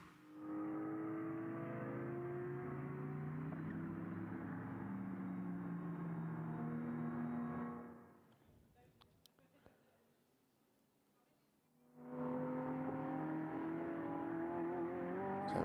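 GT race cars in the Ultimate GT Endurance Cup at Magny-Cours, including a Porsche, roar loudly past with sustained engine drone, fading away briefly before another car's engine swells back in, under race commentary.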